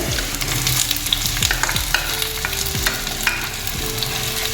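Sliced onions, with crushed ginger, garlic, tomato and dried red chillies, fry and are stirred in a pan for Kerala beef curry, a steady loud sizzle broken by repeated scraping strokes of a spoon, with no voices.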